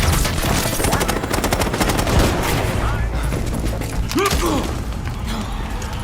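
Rapid automatic gunfire and fusillade crackle through a Call of Duty: Black Ops 6 firefight, dense bursts of shots with mechanical clatter, while a voice briefly calls out midway.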